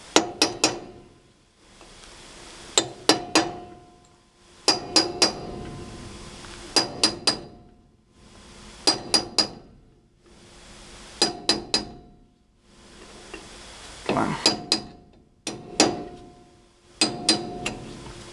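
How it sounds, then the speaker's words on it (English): Metal strikes ring out in short clustered bursts, a hammer tapping a chisel on a horse trailer two or three times per group with brief pauses between, close and sharp. "So chisel, hammer, go like this."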